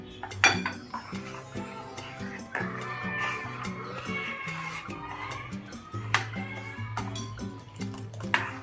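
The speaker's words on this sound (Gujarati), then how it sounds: "રેડતા જઈશું અને હલાવતા જઈશું બસ આ જ રીતે ધીમે ધીમે અંદર એડ કરતા જઈશું" A spoon knocks and scrapes around a pot of Manchow soup as cornflour is poured in and stirred, giving irregular metallic clinks and taps close by over a low hum, with faint kitchen clatter between strikes.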